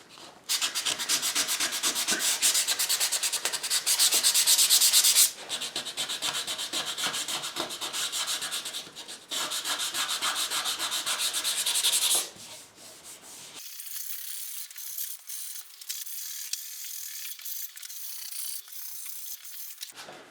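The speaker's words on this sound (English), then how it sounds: "So that's the body all sanded to 220 grit" Steady, continuous abrasive rubbing as the edges and bevels of a wooden SG junior-style guitar body are sanded by hand to 220 grit, loud and close, with brief pauses and a softer stretch near the end.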